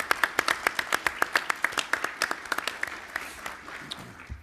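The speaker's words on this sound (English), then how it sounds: "Round of applause for that." Seminar attendees at an army reserve event give a brief round of applause, sharp individual claps ringing out in a fairly even rhythm and gradually thinning, faint and somewhat distant.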